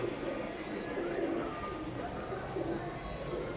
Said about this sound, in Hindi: बहुत ही खूबसूरत कबूतर है दोस्तों, मज़ा आ गया इसको हाथ में पकड़ते ही।